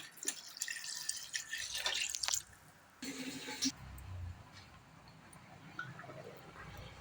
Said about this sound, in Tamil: அடுத்து தண்ணி ஊற்றிடுவோங்க.